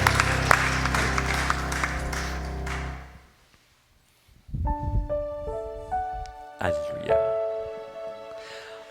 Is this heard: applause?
yes